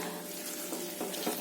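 Rinse water from a mixer jar is poured into a mushroom curry gravy in a pan, a soft, steady splashing trickle, alone and fairly quiet.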